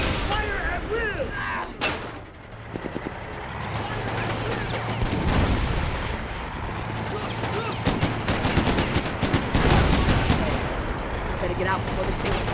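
Dense gunfire from a video game battle in Mercenaries 2: World in Flames, with rapid bursts of automatic fire, booms and slams layered thick throughout, loud and close, under shouted in-game voices.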